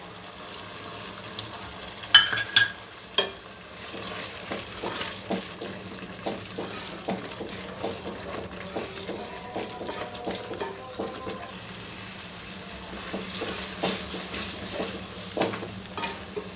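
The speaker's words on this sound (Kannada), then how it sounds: "ಗಸಗಸೆ ಗೋಡಂಬಿ ಮತ್ತು ಕಡಲೆಪಪ್ಪು ಸ್ವಲ್ಪ ಹಾಕಿ ಪೇಸ್ಟ್ ಮಾಡಿರೋದನ್ನು ಹಾಕ್ತಾಯಿದ್ದೀನಿ" Steady sizzle of poppy seed, cashew and chana dal paste frying in a pan for a methi paneer gravy, with scraping stir strokes and small clinks throughout.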